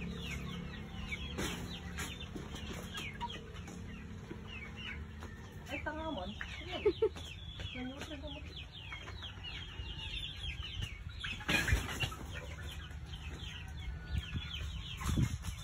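Chickens cluck and squawk repeatedly at close range over steady farmyard background noise, with people talking now and then.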